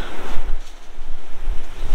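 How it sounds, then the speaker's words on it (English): Strong coastal wind buffets the microphone in loud, uneven low gusts over a steady rushing hiss, with no voices. "Just windy."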